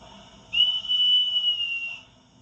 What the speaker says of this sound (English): F11 is the conductor whistle.